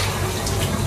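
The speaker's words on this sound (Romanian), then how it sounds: "Mai pun puțin apă" Water runs steadily from a tap, poured into a cooking dish along with paprika and salt before it goes into the oven; a continuous close rushing splash with no talking.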